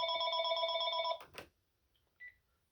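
A telephone rings indoors with one loud, sustained electronic trill that then cuts off, followed by a brief faint chirp in the quiet.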